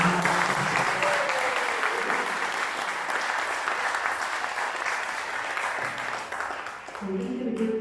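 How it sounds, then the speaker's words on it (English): An audience at a Greens federal election candidates' launch in Western Sydney gives a round of applause, steady clapping filling the room with some voices mixed in near the end. "Can I give another round of applause for our candidates?"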